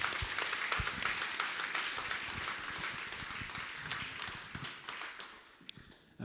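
An audience claps at a gala for a young woman honoured for her bravery, giving a sustained round of applause at moderate distance with no voices over it.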